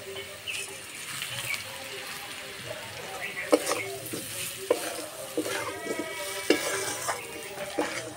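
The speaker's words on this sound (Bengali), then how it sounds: "ভেজে রাখা চাল দিয়ে দেবো।" Pre-roasted rice goes into a pan with coriander, cumin, chilli and turmeric powders and fries with a steady sizzle, broken by repeated scraping and clinking of stirring, close and moderately loud.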